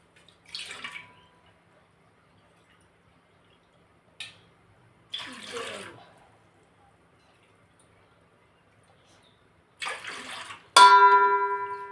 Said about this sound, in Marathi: मी इथे सहा वाटी पाणी या पातेल्यात मोजून घेते